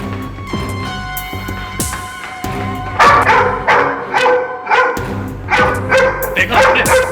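A dog barks in repeated sharp bursts in a tense haunted-house scene from a crime drama, moderately loud over a steady tonal background, with voices nearby.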